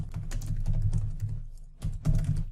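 Close, rapid keystrokes on a computer keyboard come in two bursts separated by a short pause, clear and dry with no talking.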